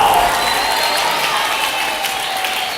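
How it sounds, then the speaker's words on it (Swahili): A church congregation applauding for Jesus, a dense wash of clapping with some crowd noise, fading slightly over a few seconds. "Ambao hawajaliwa na mnyama mkali wangepiga makofi kwa Yesu mwana wa Mungu aliye hai"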